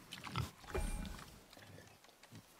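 A wild boar in God of War gives a few short grunts and snorts, close and fairly quiet, spaced out over a couple of seconds.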